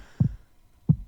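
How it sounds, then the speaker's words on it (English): Two thudding heartbeat sound-effect pulses, each a deep low lub-dub thump, spaced under a second apart, loud and close with near silence between them. "The heartbeats, right?"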